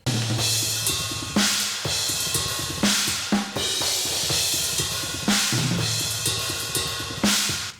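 Cymbals from a metal drum mix ring together in a steady groove: a pinging ride pattern under periodic crashes and trashy China accents, bright and sustained throughout.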